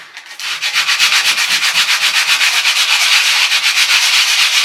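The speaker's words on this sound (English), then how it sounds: "So take that off a bit with the scraper." A scraper rasps rhythmically against a wall, stripping old Velcro sticky pads in quick repeated strokes, close and loud, with no talking.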